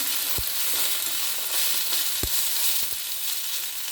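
Tomato added to a pan of frying onion and garam masala for a jackfruit curry, giving a steady close sizzle with a few soft knocks of stirring or placement and no talking.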